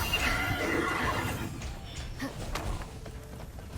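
A horse whinnies loudly in Immortals Fenyx Rising, with its call trailing off into softer hoof clatter and thuds of a gallop across the game world.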